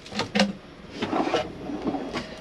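A storage drawer in an Adria Twin Supreme 640SGX caravan slides and knocks shut, giving a few quick sliding scrapes and clunks close by, with no voices.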